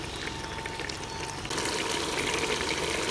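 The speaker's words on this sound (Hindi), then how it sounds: "अब हम इसके अंदर थोड़ा सा डालते हैं पानी, क्योंकि आलू हमारे कच्चे हैं" Water pours into a pan of cooking potatoes, a steady rushing splash that grows louder and fuller halfway through, with no voices.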